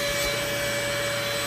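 A household vacuum cleaner with a bent wand runs steadily, close by, during bathroom cleaning, giving a constant loud whine with a high, even tone and no pauses.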